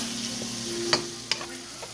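Pork frying in a pan for fried rice with a steady sizzle, a couple of sharp clinks of a utensil against the pan.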